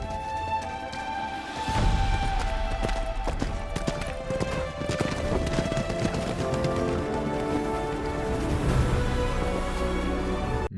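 Horses gallop continuously in the film Mulan, a dense, loud clatter of many hooves alongside orchestral music, with no voices.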